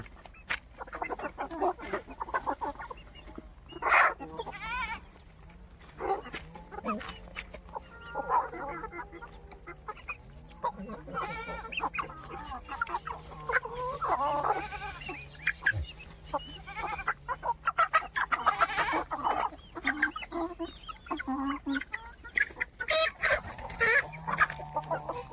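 Chickens cluck on and off nearby, scattered short clucks and squawks over a quiet background, with occasional louder bursts.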